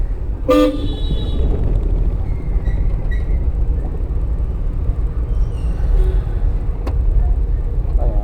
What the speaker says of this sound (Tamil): இங்கேயே ஹார்ன் அடித்தா தான் அவங்க நவருவாங்க.